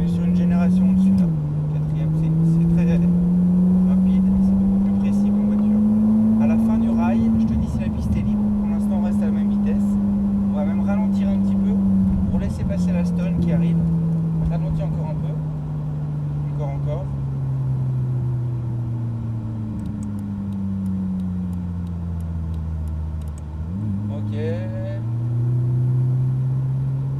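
A Ferrari 458 engine pulls hard on a race circuit, climbing in pitch through one gear after another with distinct upshift drops, loud and close from inside the car, with occasional speech over it.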